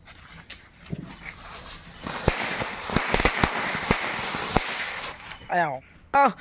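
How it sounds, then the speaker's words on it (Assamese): Diwali firecrackers burst at night in a string of sharp, loud cracks and pops spread over several seconds, with a dog barking and whimpering nearby toward the end. "লাষ্ট টাইমৰ কাৰণে ফটকা ফুৰিম"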